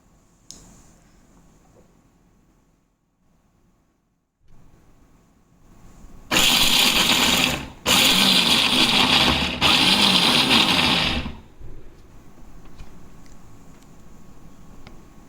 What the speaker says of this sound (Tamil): இப்போ ஊற வச்ச பாதாமை ஒரு மிக்ஸி ஜாரில் போட்டு அரைச்சிட்டு வந்துடலாம்.